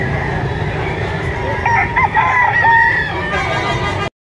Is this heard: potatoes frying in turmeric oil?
no